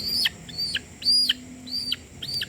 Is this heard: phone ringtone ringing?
no